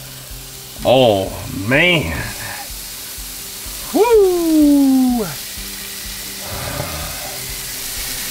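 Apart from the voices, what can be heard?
salmon fillets sizzling on a Blackstone griddle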